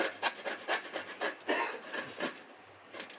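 A sharp knife scrapes old glue off the surface of an induction cooker in a run of short, rasping strokes, close and fairly quiet, with brief pauses between the rubs.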